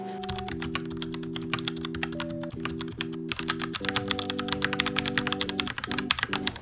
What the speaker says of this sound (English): This makes this keyboard ideal for workspaces or for streamers who don't want the sound of their keyboards to be picked up by their mics.